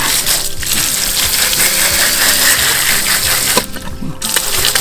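Water splashing and gushing steadily as caladium bulbs are washed clean, a close, continuous wet rush with small knocks and clatters of the bulbs throughout.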